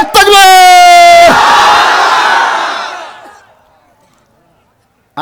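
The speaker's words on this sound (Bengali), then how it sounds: "এই মুহূর্তে একটা তাকবীর দেওয়া লাগবে" A large crowd at an evening Islamic waz gathering roars a takbir chant in unison, a loud sustained shout that fades out over a few seconds.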